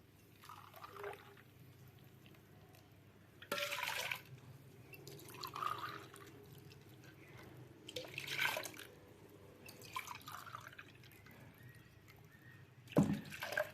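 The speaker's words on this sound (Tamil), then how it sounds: "நல்லா இதை பிழிஞ்சு எடுத்துடலாம்" Coconut milk squeezed out of grated coconut by hand: soft intermittent drips and trickles of liquid falling into a tumbler, with a few louder splashy pours, close and fairly quiet, no talking.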